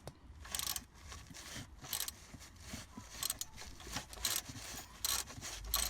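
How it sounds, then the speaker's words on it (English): A bolt is worked loose from its thread on the rear exhaust of an Opel Astra G, giving repeated scraping, grinding turns in short rhythmic strokes, close and fairly loud, with no talk. "That's a most pleasing sound of when a bolt is finally free from the confines of the thread."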